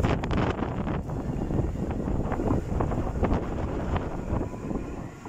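Strong wind buffets the microphone at an outdoor Nottingham Express Transit tram stop in Bulwell, a continuous loud roaring rumble with gusty surges throughout.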